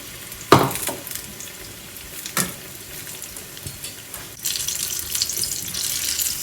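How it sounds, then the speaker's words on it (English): Banana fritters sizzle steadily in a pan of hot oil, with a couple of sharp clatters from turning them and a louder burst of hissing near the end; no one speaks. "can just keep turning them around and we fry till a nice golden brown"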